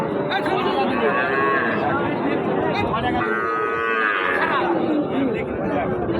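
A lean local cow moos loudly several times, long drawn-out lowing calls up close, amid a busy cattle market hubbub with people talking.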